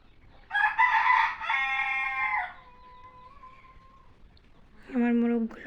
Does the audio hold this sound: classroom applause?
no